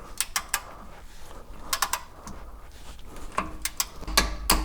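A torque wrench ratchets a differential plug down to 38 foot-pounds on a fifth-generation Toyota 4Runner, producing quick bursts of sharp metallic clicks spaced irregularly over quiet garage background.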